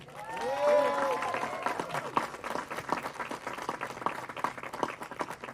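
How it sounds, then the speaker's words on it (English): A warm round of applause for Mayor Ron Nierenberg at a press conference announcing the grand marshal for a César E. Chávez march; a voice trails off at the start, then steady crowd clapping carries on to the end. "give a round warm of applause for our mayor, Ron Nierenberg"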